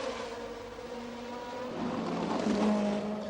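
Racing cars at the 1969 Monaco Grand Prix streaming past on the street circuit, a steady engine roar swelling louder as cars approach and pass, with no talk.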